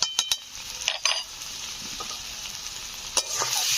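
Coriander and turmeric powder are stirred into a sizzling Bengali boal fish curry with potatoes and beans, giving a steady frying hiss with a few scraping spoon strokes against the pan, close and alone.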